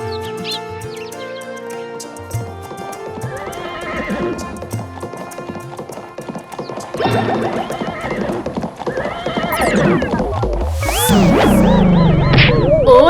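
A horse gallops with rapid, rhythmic hoofbeats that grow louder and nearer, then gives several loud, wavering neighs toward the end, with faint bird chirps in the background.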